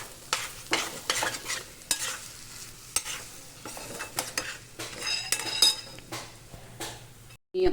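Raw mango sandwich filling of chutney, coconut and chaat masala being stirred in a bowl, with steady scraping and soft clinks of a spoon against the dish, fairly quiet and close, no talking.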